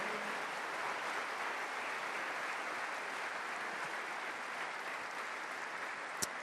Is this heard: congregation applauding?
yes